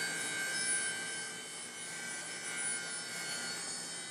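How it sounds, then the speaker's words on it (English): A Black & Decker variable speed grinder fitted with a 1/8 inch tip knocks the finish off a rose engine handle, giving a steady, high-pitched whine with an unbroken drone throughout. "it's a variable speed grinder, and it uses a 1/8 inch tip"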